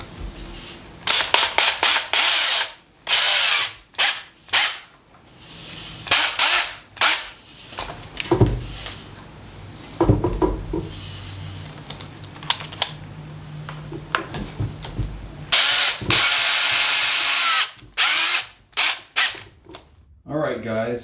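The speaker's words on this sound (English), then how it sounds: "let's get these drilled, pre-drilled, screwed on" A power drill pre-drills screw holes for hinges on a junk-parts waste oil stove, heard as repeated close bursts of whirring and sharp clicks and rattles of metal, stopping and starting irregularly.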